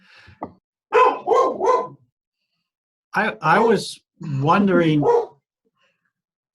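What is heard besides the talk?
dog barking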